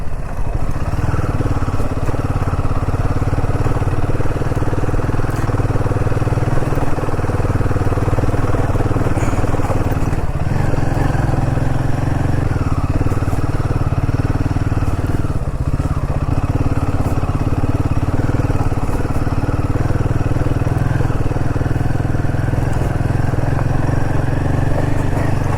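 A Royal Enfield Himalayan 450 motorcycle rides along an empty road in Northeast India from Meghalaya toward Tripura, its engine droning loud and steady throughout with wind and road rumble.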